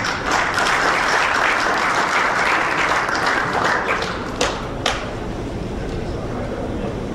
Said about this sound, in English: we have a cheer to give and a round of applause for this